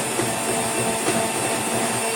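A mixer grinder spins briefly through marble cake batter, a loud continuous whirring motor hum with a dense hiss, steady and alone for the full moment.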